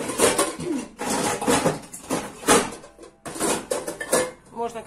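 Metal pots and pans clatter as a cooking pot is pulled out of a kitchen cupboard, a series of loud close bangs and rattling knocks coming in irregular bursts with short pauses between them.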